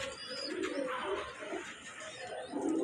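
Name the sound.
Budapest pigeons cooing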